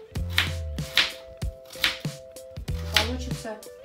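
A knife chopping vegetables into sticks for borscht, sharp rhythmic thuds on a cutting board at an uneven pace, close and clear, with a speaking voice running alongside.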